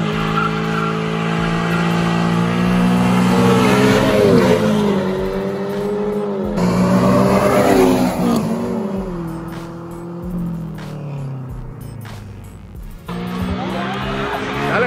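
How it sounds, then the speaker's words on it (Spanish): A Cupra and a nitrous-equipped Honda launch in a street drag race, with engines revving hard, tires squealing and shifting gear tones rising, close and loud, with a crowd noise between runs. "La siguiente carrera, amigos, el Cupra de Giovanni con el Honda que trae nitro."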